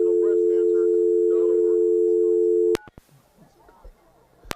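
Steady telephone busy tone drones for nearly three seconds over a stadium phone line during a power outage at a high school football game, then cuts off abruptly with clicks, followed by faint muffled background noise.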